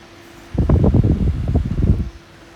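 A white Kaze Flex PC case fan spins up with a loud, broadband whoosh of moving air lasting about a second and a half, fluttering and rustling close to the microphone before dropping back to a low hum.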